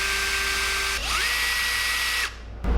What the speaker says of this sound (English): That was drilling backwards actually.